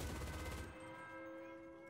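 An MG42 machine gun in Enlisted fires a rapid buzzing burst for under a second, then cuts off, leaving quiet tonal game sounds behind.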